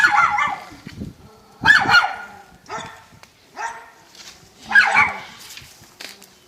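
A small dog barks repeatedly in sharp, yappy bursts at irregular intervals, fairly close, with quiet pauses between.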